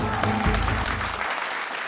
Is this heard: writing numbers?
no